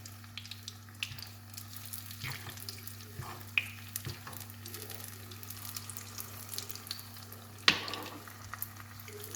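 A brik pastry with egg frying in oil crackles with steady quiet sizzling and occasional sharper pops, close and faint over a low steady hum, no voices.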